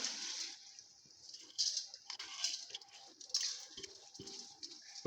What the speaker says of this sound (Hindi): पानी को बॉईल आ चुका है, पानी पकना स्टार्ट हो गया है। इसके अंदर अब मैं चावल ऐड कर देती हूँ।